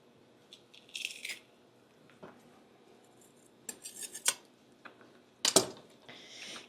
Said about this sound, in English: I'm gonna mince down 2 cloves of garlic